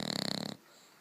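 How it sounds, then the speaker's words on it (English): A bulldog puppy lying on a bed snores close up, a fast run of rattling, wheezy breaths for about half a second before cutting to near silence. "Can anybody sleep with this snoring?"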